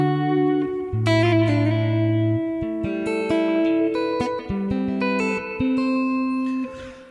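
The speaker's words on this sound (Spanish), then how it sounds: "Es raro el Spring Reverb digital que suene verdaderamente nítido." Guitar notes run through the digital spring reverb of a Blue Sky pedal, sustained clean tones in a melodic sequence with a bright reverberant tail, played alone.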